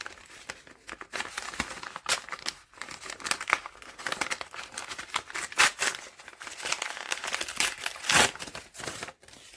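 Crinkling and tearing of a foil Yu-Gi-Oh trading card booster pack being opened close up, a steady run of crisp crackles and rips with brief pauses, no talking.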